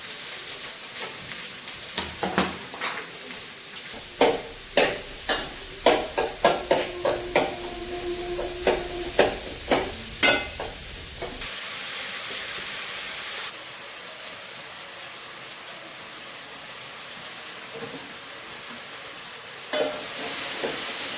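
Sharp metallic clanks of stirring in a pan of onions, about a dozen in quick succession, then a steady sizzling hiss of cooking with no more clatter.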